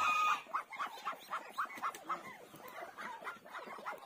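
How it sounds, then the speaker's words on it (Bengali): Young female geese fighting and attacking other geese, giving rapid, repeated squawking and honking calls in an agitated, uneven rhythm, fairly close but moderately faint. "ফিমেল হাঁসগুলো সবগুলাকে মারতেছে, মানে সবগুলাকে মারতেছে, একদম যুদ্ধ চলতেছে"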